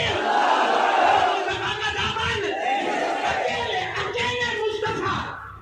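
A large gathering at an Urdu religious sermon roars back in unison after a Takbir call, a sustained loud crowd chant filling the space with massed voices throughout.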